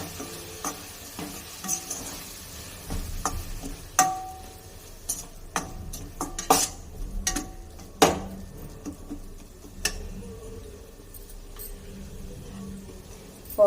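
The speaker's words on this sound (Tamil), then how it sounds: "போட்டு நல்லா பச்சை வாசனை போகிற அளவுக்கு வதக்கிக்கலாம்." Spice powders for chicken kuzhambu sautéed in a pan, a quiet sizzle under repeated sharp clinks and scrapes of a ladle against the pan at an irregular pace, close by with no talking.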